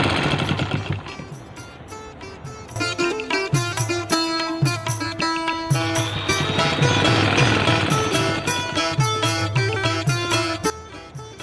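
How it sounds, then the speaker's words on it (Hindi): A sewing machine runs fast and loud, stitching the folded edge of a polyester bed sheet, its steady mechanical chatter holding for the whole stretch with only brief dips in speed. "अभी ये सिलाई कर रहा हूँ।"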